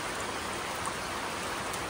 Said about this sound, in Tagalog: Grabe yung ulan. Bigla na lang lumakas.